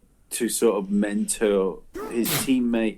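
A single sharp sneeze bursts out partway through, sandwiched between a man's ongoing speech in a podcast conversation.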